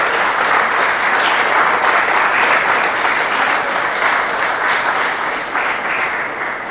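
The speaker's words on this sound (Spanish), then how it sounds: "así que vamos a darle un aplauso aunque no le escuche y guardamos su premio" Sustained applause from an audience at an award ceremony, a steady dense wash of clapping that stays loud throughout and fades slightly at the end, with no talk over it.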